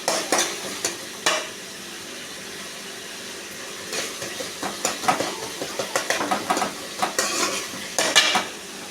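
Coriander and mint sizzle in a hot pan while a metal spoon scrapes and stirs, producing irregular clinks and scrapes over a steady frying hiss, close up.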